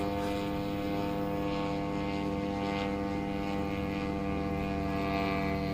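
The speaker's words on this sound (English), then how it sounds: "one of those ultralight airplanes" Steady droning buzz of a small propeller engine on an ultralight airplane flying overhead, continuous and fairly even throughout, with no talking.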